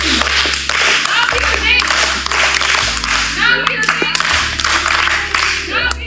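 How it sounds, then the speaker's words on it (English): A circle of people claps loudly and continuously in a fast, dense rhythm over a thumping bass beat, as if getting ready to dance. "a circle of people clapping it up, getting ready to dance"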